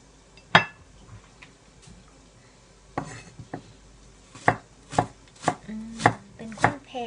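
A knife finely slicing shallots on a cutting board: sharp, distinct chops, first sparse, then a quicker irregular run of crisp knocks near the end, close and clear with no talking.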